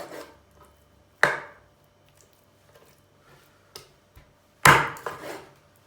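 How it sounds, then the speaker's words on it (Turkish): A few sharp knife chops through peppers on a cutting board, irregularly spaced with quiet gaps between, and a quick double chop near the end. "Hemen iş uzatmadan biberlerimizi doğruyoruz."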